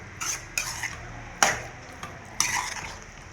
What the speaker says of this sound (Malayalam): കറിവേപ്പില ഇട്ട് നന്നായി ഇളക്കി